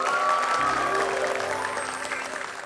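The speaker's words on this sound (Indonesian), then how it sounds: "Tepuk tangan Stimra." Studio audience at a televised political debate gives a group called Stimra a steady round of applause that fades slightly toward the end, with no talking over it.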